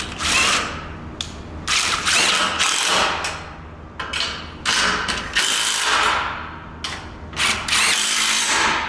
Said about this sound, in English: you're going to take your 9/16 on your impact and tighten everything up